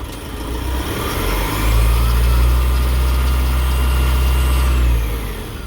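Isuzu diesel engine revving, with a steady low idle rumble that swells into a louder, sustained rev for about three seconds before dropping back, close and alone with no talk.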